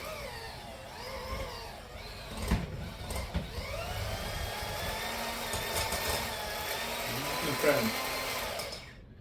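An electric hand mixer's beaters whir steadily in a bowl of chocolate-covered peanut butter ball mixture, a loud, continuous motor whine with a few knocks against the bowl and a changing pitch.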